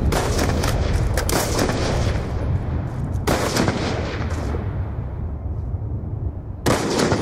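Gunshots in an online 1v1 shooter game over a laggy connection: several loud, sharp cracks with booming tails, separated by rumbling noise.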